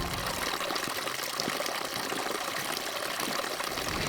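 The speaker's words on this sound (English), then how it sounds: "You can probably hear running water in the background" Running water on Rannoch Moor, a steady, close rushing and trickling that fills the whole stretch without a break, with no voices over it.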